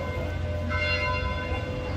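Church bells at Notre-Dame cathedral in Nice ring out in a steady, sustained peal at moderate distance, with no talking over them.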